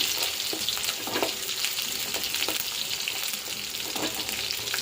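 Food fries in hot oil until golden while making ulavala rasam, giving a continuous crackling sizzle with occasional sharper pops and stirring scrapes. No one speaks.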